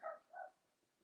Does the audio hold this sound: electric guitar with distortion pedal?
no